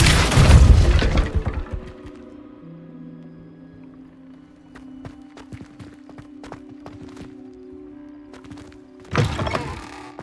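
Depulso spell cast in the video game Hogwarts Legacy: a loud burst of magic at the start, then a quieter stretch of sustained tones and scattered clicks, and a second forceful blast near the end.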